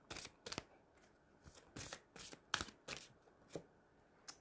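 Oracle cards shuffled for a card reading, a series of crisp riffling bursts and soft slaps in an uneven rhythm, close and fairly quiet with no talk.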